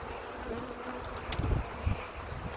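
Honeybees buzz in a steady close drone around full honey frames in a hive body, with a couple of louder passes as individual bees fly near.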